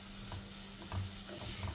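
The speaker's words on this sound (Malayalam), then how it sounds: "പഞ്ചസാരയോടെ ചേർത്ത് കഴിയുമ്പോൾ വീണ്ടും ഒന്നുകൂടെ ഒന്ന് ഇളക്കി കൊടുക്കാം" Banana pieces being stirred with sugar in a pan, giving a soft, steady sizzle with faint scraping strokes, close and alone without talk.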